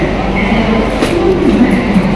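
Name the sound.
Howrah–Bikaner Express train departing platform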